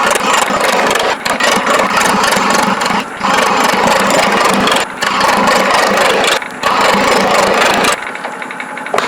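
A wood lathe spins an offset wooden blank at rising speed, a loud, continuous motor hum with rattling vibration, briefly dipping twice before cutting off near the end.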